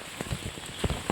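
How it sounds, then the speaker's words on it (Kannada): Heavy monsoon rain comes down as a steady, close wash of patter, with louder drops landing on a surface every so often. "ತುಂಬ ಮಳೆ ಬರ್ತಿದೆ"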